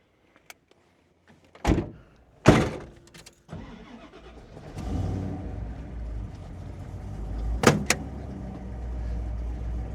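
Car doors thud shut, then the big engine of a 1970 AMC AMX SS race car tribute cranks and roars to life, settling into a deep rumbling idle before revving again.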